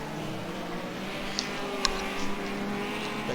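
Classic Hot Rod race cars racing at Wimbledon stadium, a steady engine drone of the pack with a couple of sharp clacks, moderately distant and continuous.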